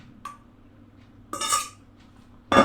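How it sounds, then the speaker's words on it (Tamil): Peas get mixed into a mashed potato cutlet mixture in a metal bowl, heard as a few separate clinks and scrapes of a utensil against the dish, with short quiet gaps between them. "இந்த பட்டாணியை இதில் மிக்ஸ் பண்ண போகிறோம்"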